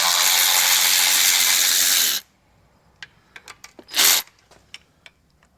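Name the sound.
ratchet with 5/8 socket breaking bolts loose on Mercury outboard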